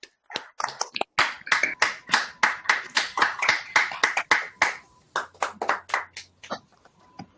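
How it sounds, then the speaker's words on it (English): Scattered hand claps from a few people, sharp separate slaps that thin out toward the end, sounding close and slightly clipped, as if through a call. "give David a big round of applause for his presentation."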